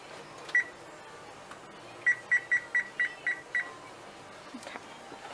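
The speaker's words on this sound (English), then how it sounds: "So I'm going to set my timer." A kitchen timer is set for cooking mac and cheese: one faint beep, a pause, then a quick run of six evenly spaced beeps.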